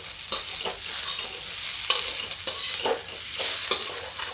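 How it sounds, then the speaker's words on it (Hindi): Potato pieces frying in a little oil over a high gas flame, a loud close sizzle broken by irregular stirring scrapes. "देखिए गैस तेज हो गई है और ये आलू थोड़ा फ्राई कर लेते हैं"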